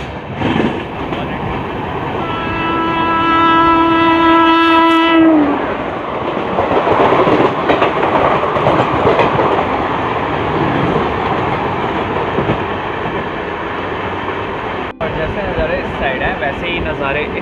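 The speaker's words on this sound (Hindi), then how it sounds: "यहाँ से फटाक से अपनी ट्रेन रफ्तार पकड़ेगी रायगढ़ की तरफ" The Samaleswari Express runs on the Jeypore–Koraput–Rayagada line through a ghat section, with a loud, sustained rumble of wheels and carriages. A long multi-tone train horn sounds early, and the steady clatter continues as the train speeds up.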